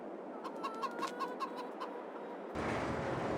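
Chickens in the Farming Simulator 22 video game cluck in a quick series of short calls, then a louder, steady wash of flock noise takes over near the end.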